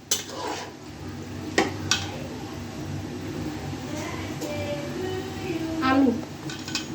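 Potatoes being stirred into biryani in a pot, with soft scraping and clinking of a spoon against metal and a few sharp knocks, steady and close amid low kitchen background noise.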